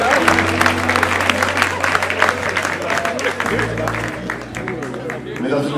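Crowd at a Congolese tourism week event in Kolwezi applauding, a steady wash of clapping mixed with crowd noise and background music, with voices audible throughout.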